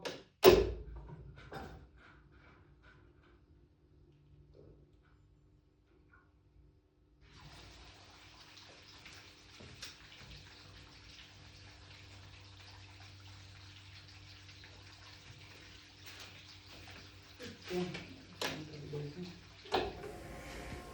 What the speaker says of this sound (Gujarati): અહીંથી આપણે મોટર તો ચાલુ કરી દીધી છે, અને બહાર જઈને જોઈશું કે પાણી બરાબર નીકળે છે કે નહીં